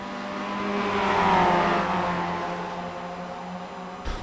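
Mazda MX-5 race cars battle for position on a circuit, one engine note swelling as it approaches and then fading away as the cars pass, with no talk.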